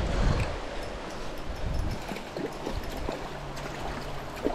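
Creek water flows and trickles steadily at a moderate distance beside a morning trout-fishing spot, a soft continuous wash with faint gurgles and light rustling, no voices.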